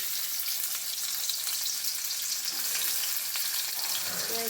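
Onion sizzling in hot oil in a pan for a cabbage and egg stir-fry, a steady close crackle with no talking.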